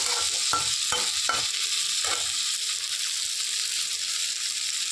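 Tomatoes and green chillies sizzle steadily in a pan, with a few quick scraping stirs near the start over a constant bright frying hiss.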